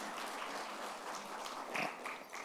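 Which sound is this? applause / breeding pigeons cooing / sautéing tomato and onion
applause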